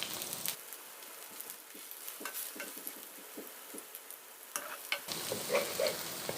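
Meat sizzles and fries in a hot pan for a Korean mung bean pancake, a steady close crackle that turns louder and brighter near the end, with no talk over it.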